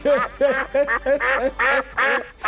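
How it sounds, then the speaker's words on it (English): A duck quacks in a rapid series of about seven loud, nasal calls close to the mic, evenly paced like cackling laughter, clear and alone with no talking. "Bredda Duck started laughing."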